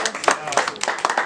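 An audience claps in short uneven bursts, individual hand strikes standing out close and sharp rather than blending into a wash, with speech running over the top.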